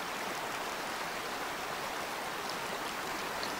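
Steady rushing water roars continuously from a waterfall by a lake in the game Way of the Hunter, a dense even wash of falling water heard up close with no voices.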